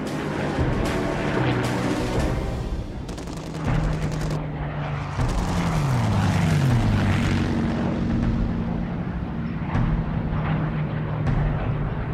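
Droning engines of WW2 bomber formations and escorting fighter aircraft crossing the English coast during the Battle of Britain, a sustained dense roar with pitch-sliding passes and scattered distant thuds like gunfire, without talk.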